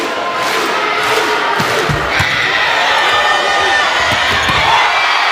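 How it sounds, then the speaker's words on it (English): A crowd of Hawaii fans at a Big West Championship volleyball match roars loudly, with cheers and thumping swelling into a sustained wall of noise, and a commentator's voice comes through beneath it. "Look at this crowd from Hawaii."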